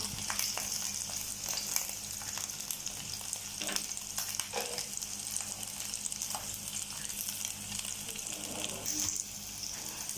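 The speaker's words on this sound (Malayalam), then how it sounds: "ലോ ഫ്ലെയിമിൽ ഒരു 3 മിനിറ്റ് ഫ്രൈ ചെയ്തെടുക്കണം കേട്ടോ." Cabbage cubes frying on a low flame for a masala dish, a steady soft sizzle with occasional scrapes and stirring clinks, close and continuous without speech.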